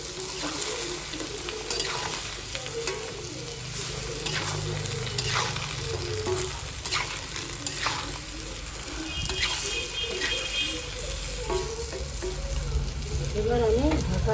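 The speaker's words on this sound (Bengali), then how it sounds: "দিয়ে দেবো পেঁয়াজ আর রসুন দিয়ে আমি অল্প একটু নাড়া দিই" Onion and garlic frying in a pan and being stirred, a continuous close sizzle with intermittent scraping strokes and light clinks, growing slightly louder toward the end, without speech.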